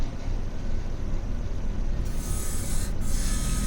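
A lathe cuts a recess into a piece of antler for a turned urn, giving a steady, close-up broadband rasp that stays even throughout and brightens partway through.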